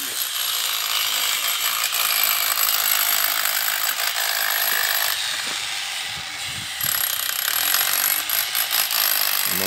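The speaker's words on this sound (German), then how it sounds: "Immer mit der Bohrmaschine." Sculptors work with an electric drill, its harsh, whirring buzz running steadily and close for about ten seconds, with a short dip midway and rattling mechanical texture.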